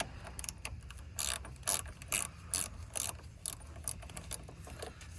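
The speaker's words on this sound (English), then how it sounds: "let's start disconnecting the battery terminal. This can come out for now. So this one is a 10mm wrench." A 10mm wrench ratcheting as it loosens the battery terminal on a 2019 Subaru Ascent, with repeated quick clicking bursts in uneven rhythm, close and moderately loud, no talking.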